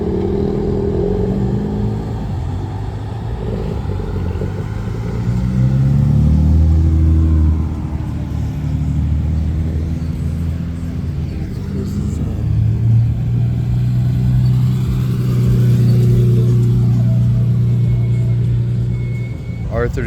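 A Mazda FC RX-7 rumbles and revs close by, its engine pitch rising and falling in several swells, with people talking over it.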